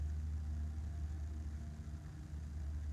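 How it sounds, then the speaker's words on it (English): A car engine runs with a steady, even low rumble, moderately quiet and unbroken throughout, with no other sounds on top. "I'm going to get in the car and I'm going to drive it."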